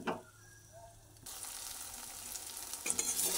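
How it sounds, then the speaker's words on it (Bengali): Cashew nuts frying in a little oil in a pan, with a quiet opening and then a sudden rise into a continuous crackling sizzle that builds louder toward the end. "কাজু বাদাম অল্প করে ভেজে নিলাম।"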